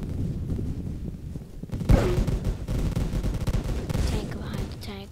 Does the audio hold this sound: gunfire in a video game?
yes